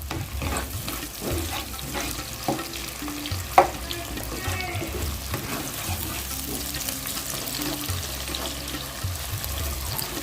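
Chopped tomatoes frying over a high flame in a pan for mushroom gravy, with a steady sizzle and repeated scraping stirs of a spoon, plus one sharp clack partway through.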